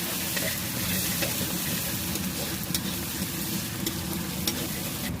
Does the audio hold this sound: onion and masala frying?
yes